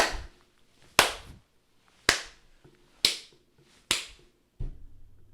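Sharp single hand claps, about five distinct cracks spaced roughly a second apart, each crisp and close with a short decay, then a softer thud near the end, with no talk.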